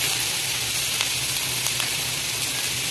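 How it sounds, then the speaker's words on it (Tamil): Steady, dense sizzling of capsicum and onion sautéing in a hot frying pan, with faint clinks of stirring now and then. "இதையும் கொஞ்சம் வதக்கலாம் கொஞ்சம் வதங்கிடுச்சுங்க"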